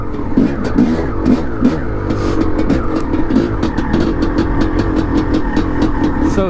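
A rebuilt 1989 Honda CR500R two-stroke dirt bike engine revs close by in quick, rhythmic pulses, its loud, raspy note rising and falling repeatedly.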